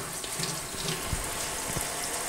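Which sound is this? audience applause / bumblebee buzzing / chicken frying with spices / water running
water running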